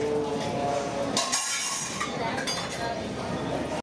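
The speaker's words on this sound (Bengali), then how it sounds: "কেউ কেউ বাটি ধুয়ে দিচ্ছেন" Metal bowls clink and clatter as they are washed in the busy langar kitchen of the Golden Temple in Amritsar, with a sharp burst of knocks amid steady crowd murmur and a voice talking.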